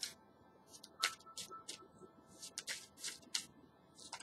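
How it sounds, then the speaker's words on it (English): Tarot cards are shuffled in quick, crisp riffling bursts, close and fairly quiet, with brief pauses between rapid flutters. "And let me shuffle the cards some. Give it a good shuffle."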